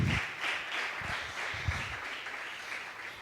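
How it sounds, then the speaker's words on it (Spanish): A church congregation applauds with steady, dense clapping that carries on throughout, moderately loud and echoing in a large room. "¿Cuántos le dan un aplauso?"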